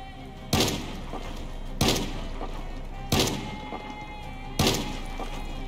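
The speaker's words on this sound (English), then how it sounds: "It's a shotgun." A semi-automatic shotgun in the zombie survival game Project Zomboid fires four loud, sharp blasts at roughly even intervals, each one followed by a short decaying tail over a constant low background hum.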